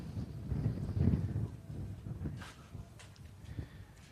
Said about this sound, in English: making tonight a really windy night